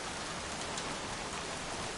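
Rain in the video game Heavy Rain, a constant hiss of heavy rainfall on surfaces, loud and unbroken with no voices.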